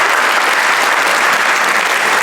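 An audience applauds in a dense, steady burst of clapping, loud and close from start to finish, with no voices over it.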